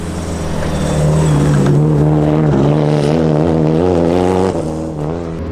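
A rally car's engine drones loud and close from inside the cabin, steady harmonic tones rising and falling as the driver works the throttle, with rattles and road noise underneath.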